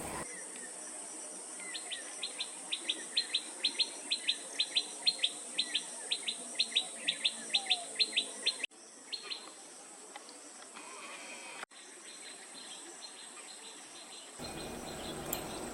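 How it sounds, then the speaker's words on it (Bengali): Small birds chirp in a village habitat, likely white-rumped and scaly-breasted munias, with a run of quick, regular high tweets over a constant buzz of insects and crickets. The chirps thin out later and no one speaks. "বাংলায় অনেকে হোয়াইট রাম্পড মুনিয়াকে ধলা কোমর মুনিয়া আর স্কেলি ব্রেস্টেড মুনিয়াকে তেলি মুনিয়া বলে।"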